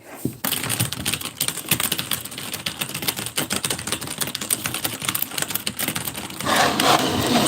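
Steady typing on a computer keyboard, a dense run of close, crisp key clicks and taps with uneven rhythm, continuous and fairly loud, becoming a busier clatter near the end.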